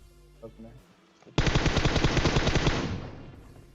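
Rapid burst of automatic gunfire in the mobile battle-royale game PUBG Mobile, loud and close, a continuous rattling volley of about a second and a half that tails off, preceded by brief faint game sounds.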